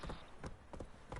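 Horse hooves clip-clopping in The Witcher 3 video game, a short run of several rhythmic thuds at a steady gallop, moderately loud, with no talk over them.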